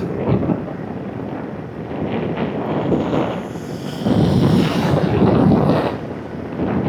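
Wind buffeting the microphone on a cold, wet motorcycle ride between Lijiang and Shangri-La in Yunnan, China: a loud, steady rumbling roar that swells and eases, with no talking.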